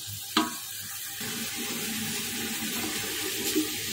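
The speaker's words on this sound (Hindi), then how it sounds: "चिकन डाल के इसे मैं अच्छी तरह भूनूंगी" Chicken being fried in a pan for biryani pulao, a continuous close sizzle and bubbling with a couple of sharp clinks of a utensil against the pan near the start and end.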